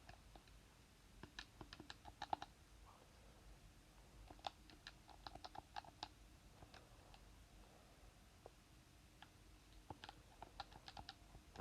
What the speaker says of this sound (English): I'm just typing it in right now, plus right at the bottom.